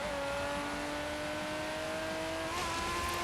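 A Nissan in Forza Horizon 3 revs loud and steady with a rising engine tone, climbing higher near the end with no talk over it.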